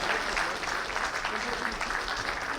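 Applause continues from the crowd at an arts launch evening in Mauritania, a dense wash of clapping at moderate level that blends with faint background voices.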